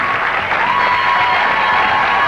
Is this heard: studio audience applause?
yes